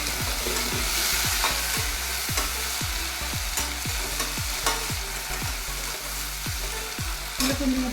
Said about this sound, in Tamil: ஆனியன் வதங்கும் போது நம்ம தக்காளி போட்டுக்கலாம்.